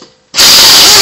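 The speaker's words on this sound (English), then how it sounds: "And I'm going to do a lot of my work with air tools." A pneumatic air tool bursts on abruptly after a brief quiet moment while working on a Honda Odyssey strut assembly, a loud, close, hissing whir that holds steady to the end.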